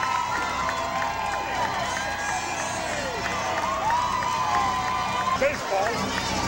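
A large crowd cheers at the 1998 San Diego Padres parade, a steady wash of outdoor crowd noise with a loudspeaker voice talking over it throughout.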